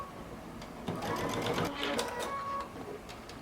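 A sewing machine runs down a mustard sweater sleeve in a short burst of quick, rattling stitches, close up, with a voice speaking over it.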